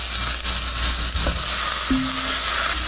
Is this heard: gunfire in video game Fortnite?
no